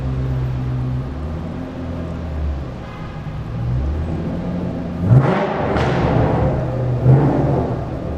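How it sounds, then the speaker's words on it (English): A loud Shelby GT500 rumbles through a parking garage, its deep engine drone echoing off concrete, with two sharper revving swells near the end. "You guys are going to experience the loudest parking garage experience of your life. This car is scary loud."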